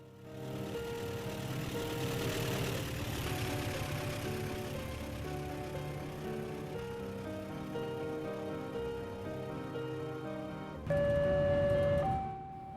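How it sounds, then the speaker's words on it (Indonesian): A KA 446 Pandanwangi passenger train in a railway simulator game rumbles steadily toward a level crossing at JPL 05 near Banyuwangi, with a low engine drone throughout and a louder burst near the end. "rangkaian kereta api K446 Pandanwangi juga sedang melaju mendekati ke perlintasan"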